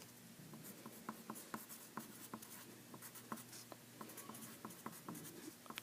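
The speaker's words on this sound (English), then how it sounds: "And I'm going to write that out." Pen or pencil writing by hand on paper, a soft continuous scratch broken by regular taps and strokes, close but quiet, with no talking.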